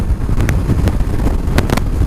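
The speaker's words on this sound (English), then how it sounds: "I'm getting a lot of wind from the sides." Steady, heavy wind buffeting rushes past the microphone with low rumbling gusts, continuous and close, mostly from the sides, while riding a Suzuki V-Strom 250 motorcycle at speed.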